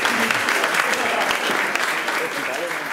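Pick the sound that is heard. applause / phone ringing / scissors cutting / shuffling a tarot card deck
applause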